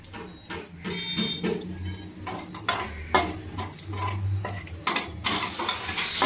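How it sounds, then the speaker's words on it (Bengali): Whole spices tempering in oil left over from frying potatoes, bursts of sizzle broken by repeated metallic scrapes and clinks of a spatula against the pan, close and busy. "এবার আমি ফোড়নটাকে একটু ভেজে নেব।"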